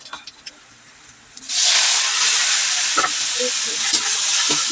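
Onion, garlic and bean sprouts hit a hot pan for a gisa of togue with pork. A quiet stretch gives way to a sudden loud, sustained sizzle with bursts of stirring. The sound is close and there is no talk.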